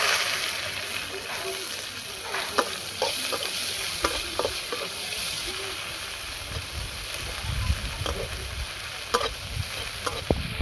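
Crushed garlic and chopped medium onion frying in a pan as a steady soft sizzle, with occasional stirring clatters over it, while someone talks through it.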